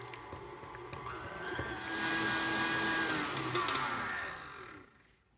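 Electric stand mixer whirring steadily as it beats pumpkin cheesecake batter with vanilla, a continuous motor drone rising slightly in speed before cutting off abruptly near the end.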